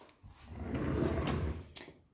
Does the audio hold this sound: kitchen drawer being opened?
yes